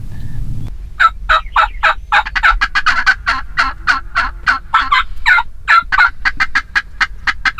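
A wild turkey hen gives rapid, sharp cutting calls, a fast irregular string of loud clucks close by, with a brief low rumble at the start.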